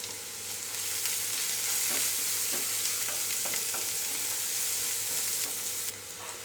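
Crushed coconut with turmeric powder fries in a pan, a steady close sizzle broken by soft scraping strokes of a spoon stirring the mixture.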